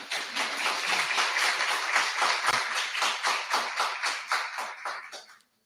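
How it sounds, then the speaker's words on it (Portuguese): Applause from an audience at a DNA Day science talk on aging and epigenetics: a dense, even round of many hands clapping with no talk, holding steady and then tapering off to silence near the end. "vocês dão uma salva de palmas, por favor"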